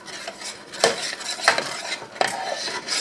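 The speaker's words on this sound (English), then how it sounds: "we're going to keep stirring this until it gets thick." A utensil stirs gravy thickening in a pan, scraping against the metal in about three distinct strokes over a faint steady background, with no talking.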